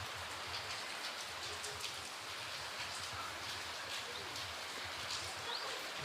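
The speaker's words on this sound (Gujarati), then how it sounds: "અને હવે વરસાદ ચાલુ થયો છે." Steady rain pours down outdoors as a cyclone's effects set in, a continuous broadband hiss of drops with no talk, holding an even level throughout.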